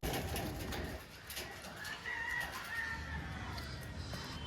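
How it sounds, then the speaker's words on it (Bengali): Slender, long-bodied pigeons in a cage coo softly among other bird calls, fairly faint, with a voice talking faintly in the background. "খুব সুন্দর পায়রা আছে সরু বডির লম্বা পায়রা"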